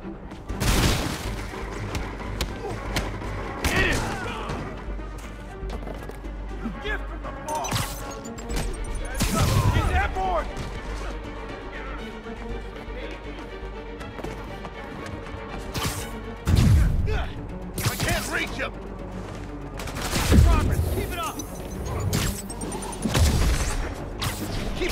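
Video game gunfire during a Kingpin side mission, with loud, sharp gunshots and heavy booms scattered irregularly across a busy action soundscape, along with occasional shouted character voices.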